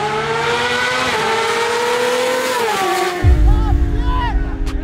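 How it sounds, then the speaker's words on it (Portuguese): Honda CB1000 motorcycle at a racetrack, its engine droning steadily with shifting pitch before a louder, rougher roar rises near the end, with people talking over it. "essa moto é barulhenta demais"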